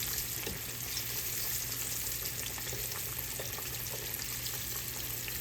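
Sliced yellow squash, about half an inch thick, frying in a pan with a steady, dense sizzle that runs unbroken throughout, close up and with no talking.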